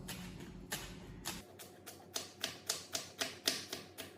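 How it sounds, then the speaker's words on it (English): A knife chops rolled-up fresh parsley on a cutting board. About a dozen quiet, crisp taps come in a fairly even rhythm that quickens slightly toward the end, with no talking. "I'm not very good at rolling herbs together to cut them."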